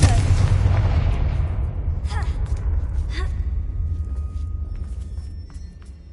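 A Confringo blasting spell explosion in the Hogwarts Legacy video game, with a loud booming burst at the start that fades into a long rumbling decay, and a few sharp crackles afterward.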